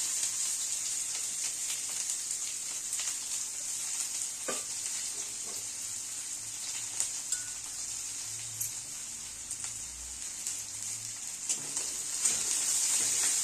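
Onion hits hot oil already crackling with mustard seeds and cumin, giving a steady, close sizzle with light stirring scrapes throughout and no talk.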